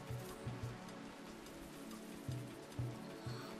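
Rain falling in the video game RimWorld, a soft continuous patter with faint low thumps recurring now and then, quiet and steady, with no talking.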